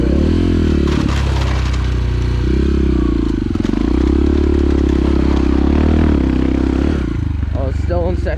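Enduro motorcycle climbing a rocky hill in second gear, engine droning and revving with shifting pitch close to the mic while a rider talks over it, clatter of rocks beneath.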